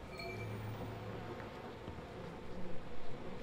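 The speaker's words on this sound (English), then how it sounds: "There's lots of bees in here." A swarm of bees in We Happy Few makes a steady, dense buzzing drone that fills the whole span. It stays moderately loud and rises a little toward the end, with no speech.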